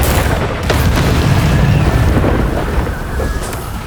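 Explosive Confringo spell blasts in Hogwarts Legacy, a run of loud rumbling booms and crackling bursts layered over a continuous roar of fire and combat effects, with no break in the noise.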